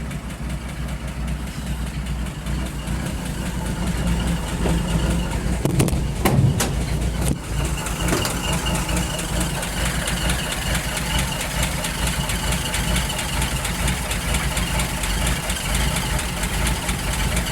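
A Ford inline six-cylinder engine in need of a tune-up idles with a slightly lopey, uneven rhythm, running loud and steady at close range throughout, with a couple of brief metallic clicks partway through.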